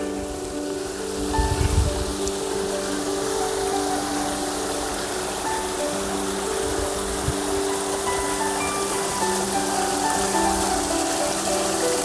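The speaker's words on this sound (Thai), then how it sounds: "จะได้ยินเสียงน้ำตก" A steady rushing waterfall and flowing stream in a forested Chiang Mai mountain campsite area, a continuous broadband wash that stays even and fairly close throughout, with no talking.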